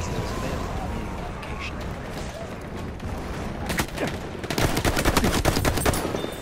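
Battlefield 1 gunfire, with rapid bursts of automatic weapon fire that grow denser and louder toward the end over a constant rumble of battle, with a voice talking underneath.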